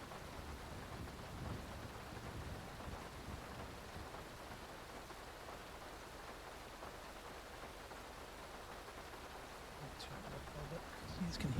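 Steady rain with a rumbling thunder undertone from a video game roleplay session, a continuous wash of downpour filling the whole stretch, with a few faint sharper sounds near the end.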